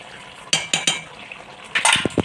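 A spoon knocks and scrapes against a pan as a spiced jackfruit and prawn curry with yogurt is stirred, giving several distinct metallic clacks in two short bursts over a faint background hiss.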